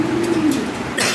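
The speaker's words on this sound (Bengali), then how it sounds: "এই যে এখানে এক পেয়ার কবুতর আছে।" A Lahori pigeon, one of a pair of European Lahori birds kept for sale, gives a short, deep, close coo lasting about a second, loud and clear, with no voices over it.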